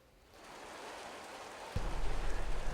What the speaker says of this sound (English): we're starting to see some consistent rain now, James.